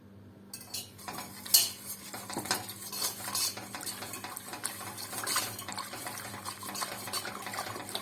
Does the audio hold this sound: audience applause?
no